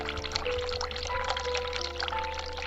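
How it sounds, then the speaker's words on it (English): Water running from a sink tap in the video game The Cat Lady, a continuous gurgling pour over a low background hum and faint tonal music, with no talking. "Turn hot water on."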